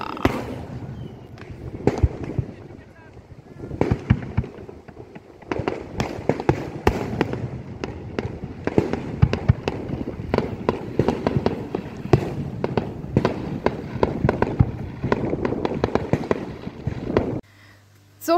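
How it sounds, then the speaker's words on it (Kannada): Fireworks going off at night over the sea at Belle Mare beach after rain, a long run of dense, loud crackling bursts and bangs, near and far, nearly continuous before stopping abruptly near the end. "ಎಲ್ಲ ಪಟಾಕಿ ಹೊಡಿತಿದ್ದಾರೆ."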